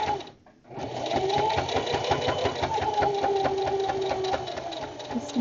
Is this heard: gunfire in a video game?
no